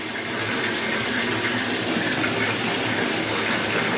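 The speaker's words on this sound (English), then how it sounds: "where I'm like holding the faucet so it goes like Niagara Falls. I'm just letting it run normally." A bath faucet runs freely into a tub being filled for a bath bomb soak, giving a steady, loud, close rush of pouring water that stays constant throughout, with no voices.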